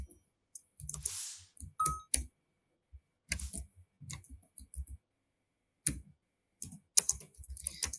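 Code is typed on a computer keyboard in irregular bursts of close, light key clicks separated by short pauses, quiet and crisp against near silence.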